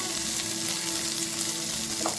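Green chillies, peas and carrots added to fried onions in a pan, giving a brief, steady, close sizzle with a faint hum beneath and no talk.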